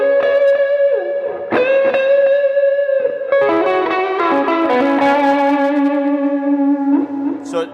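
An electric guitar played through a Klon-style overdrive pedal set for soft clipping gives a gently broken-up, rounded tone. Sustained notes and chords ring out with a touch of reverb, loud and close throughout.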